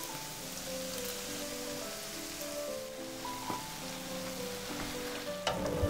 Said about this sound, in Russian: Прожариваем с каждой стороны до золотистого цвета